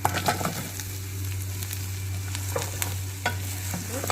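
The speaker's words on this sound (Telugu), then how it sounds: "దీంట్లో మనం వేయించుకున్న చామ దుంపలు వేసుకోవాలి" Fried colocasia pieces are stirred in a hot pan with curry leaves, giving a steady close sizzle under intermittent scraping strokes of a spoon against the pan.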